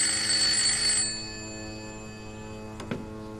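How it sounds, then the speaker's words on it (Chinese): An old-style telephone bell rings briefly and loudly, then fades into a steady low hum, with a small click near the end, in a wartime drama scene. No speech. "接电话。"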